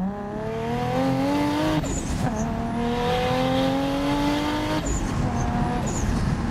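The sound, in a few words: 700 hp Toyota Supra launching from a dig, wheel spin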